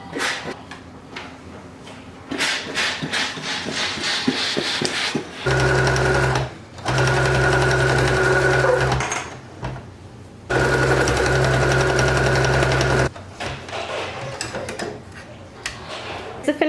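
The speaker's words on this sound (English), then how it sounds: "take it back to my machine to do a top stitch around the perimeter of the blanket" A home sewing machine top-stitches around the edge of a baby blanket, its steady mechanical whirring running in long loud bursts separated by short pauses and handling noises.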